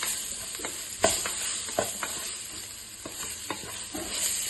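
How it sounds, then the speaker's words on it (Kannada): Soaked soya chunks are stirred in a frying pan for tomato bath, giving a faint steady sizzle with a series of light spoon taps and scrapes against the pan and no voices. "ಇದು ಬಿಸಿನೀರಿಗೆ ಹಾಕಿ ನೆನೆಸಿರೋದು ಸೋಯಾ ಚಂಕ್ಸ್ ಹಾಕ್ತಾ ಇದ್ದೀನಿ."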